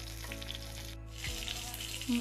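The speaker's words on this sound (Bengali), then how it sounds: "এপিট ওপিট লাল লাল করে ভেজে নেব" Fish sizzles in hot oil in a pan, a close, steady crackle with a low hum underneath and a short gap partway through, with no speech.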